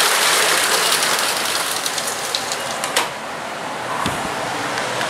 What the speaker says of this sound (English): It has been raining for like not even 20 minutes maybe